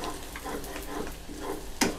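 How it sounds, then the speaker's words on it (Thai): Garlic frying in hot oil with shrimp fat in a wok, a steady close sizzle with light stirring scrapes and a sharper clatter near the end. "เจียวให้เขาหอมๆนะครับไม่ถึงกับไหม้นะเจียวให้เขาเหลือง"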